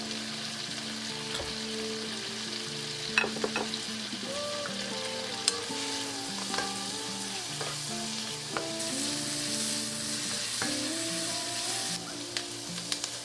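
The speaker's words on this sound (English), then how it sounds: "we're gonna saute everything to caramelize it a little bit" Leek, fresh thyme, herbs and vegetables saute in a pan with a steady, bright sizzle and occasional stirring clinks, while soft tonal music plays in the background.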